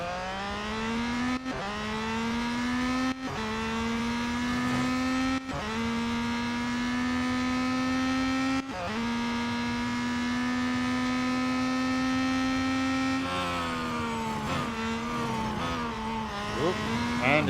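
A Peugeot 9X8 race car engine in the Real Racing 3 mobile game drones loud and continuous, its pitch climbing steadily through each gear and dropping sharply at regular shifts, with a deceleration near the end.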